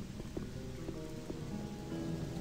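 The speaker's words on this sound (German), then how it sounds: "Das ist kein Zufall, es regnet schon wieder." Game rain falling in Gothic 1, a steady hiss of drops on surfaces with faint low rumbles and scattered soft taps underneath, no talk.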